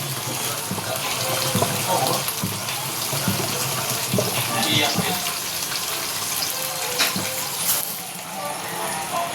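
Tap water runs steadily over frozen chicken in a home kitchen sink, a continuous splashing hiss with some clatter and faint background voices.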